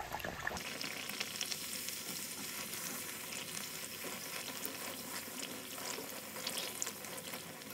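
Pumpkin vadas (bhopla vade) sizzle and crackle steadily in hot oil, a dense continuous frying hiss that holds evenly throughout with no voices.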